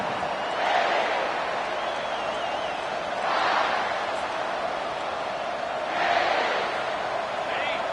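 A college football stadium crowd at Maryland vs South Carolina swells in three loud roaring waves over a constant murmur, with a commentator talking throughout.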